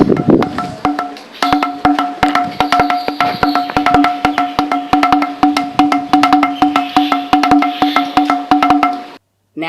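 A carved stone musical pillar in a temple, tapped repeatedly by hand to imitate ancient drums: fast, irregular clicking strikes with a steady ringing tone beneath, close and loud, continuing for about nine seconds before a brief stop.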